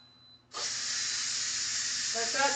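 Steam hisses loudly and steadily from a pot steamer of cooked potatoes, starting abruptly after a quiet moment and continuing unbroken, with faint kitchen clatter near the end.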